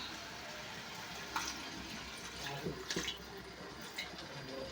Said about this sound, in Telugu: ఒక గ్లాసు వాటర్ అయితే వేస్తున్నాను చిన్న గ్లాసు